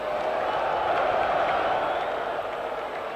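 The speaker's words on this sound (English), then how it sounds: "the crowd might howl at that one" Steady roar of a large football crowd at a Chelsea versus Real Madrid European Cup Winners' Cup final, a dense continuous wash of voices holding at a constant level throughout.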